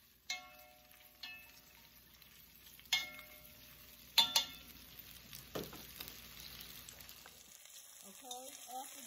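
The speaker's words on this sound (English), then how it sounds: "we're going to sear these onions for about, I'll say about 5 minutes" Onions searing in a pan for birria tacos, a soft steady sizzle under a few sharp clanks and stirring knocks from utensils, the frying quieter and thinner toward the end.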